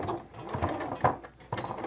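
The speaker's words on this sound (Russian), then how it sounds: "Теперь нужно застрочить оставшееся от резинки отверстие и потом настрочить" Home sewing machine stitching fabric for comfortable homewear, a close mechanical whirring and clattering in short runs with a brief pause before the stitching resumes, no talking.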